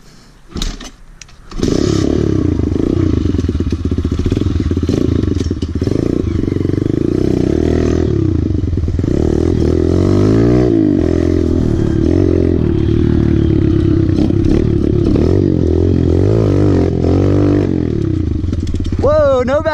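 Kawasaki KLX 140L dirt bike on an early-season ride with no rear brake, its engine loud and close throughout, steady revving with pitch swings, a few sharp clatters at the start and a voice talking over it.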